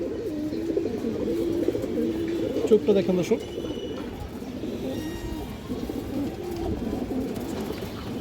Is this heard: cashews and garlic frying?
no